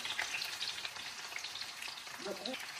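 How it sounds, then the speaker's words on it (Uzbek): Eggplant slices frying in hot oil give a steady, close, dense sizzle with crackling throughout, briefly joined near the end by a low clatter. "Endi baqlajonlarni solishni boshlaymiz. Solib qovura olaman."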